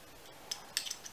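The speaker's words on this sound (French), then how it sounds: "avec des ciseaux qui fonctionnent," Scissors snip through crochet yarn while a pyjama jacket for a crocheted doll is finished, giving a few short, crisp metallic cuts close by in a quiet room.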